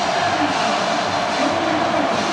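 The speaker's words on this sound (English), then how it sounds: "Crowd is roaring in a 43-6 game because they love this Dogs defense" A college football crowd at Missouri at Georgia roars in a loud, steady wall of noise that holds unbroken throughout.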